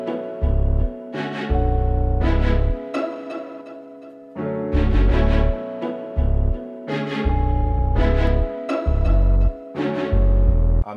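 Hip hop beat with a synth bass from the FL Studio 3X Oscillator, deep sustained low notes in a repeating pattern under bright chordal synth stabs and drums, playing steadily with no voices.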